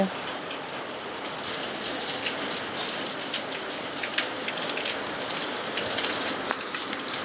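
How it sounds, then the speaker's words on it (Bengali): Steady rain falling, a dense continuous hiss of drops pattering on surfaces, with occasional louder drips standing out. "দেখো বৃষ্টি পড়েই যাচ্ছে"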